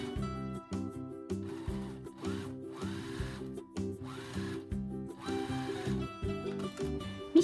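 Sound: sewing machine stitching zipper onto fabric

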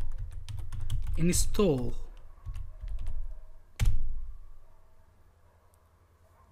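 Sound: typing a command on a computer keyboard

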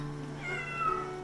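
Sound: cat meowing

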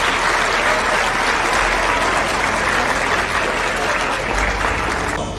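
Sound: audience applause

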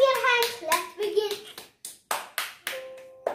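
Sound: hands clapping

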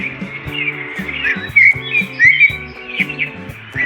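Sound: birds chirping

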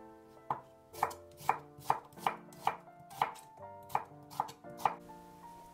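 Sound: knife chopping mushrooms, carrot and onion

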